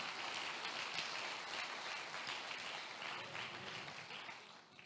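A church congregation applauding during a service, a broad wash of many hands clapping that holds steady and then slowly fades toward the end.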